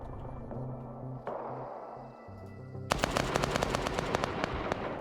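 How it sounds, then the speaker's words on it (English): Video game gunfire: rapid automatic bursts of shots crackle in a fast rhythm after a few seconds of low ambient game sound, moderately loud and without talk. "I got some gunfire I can work with here"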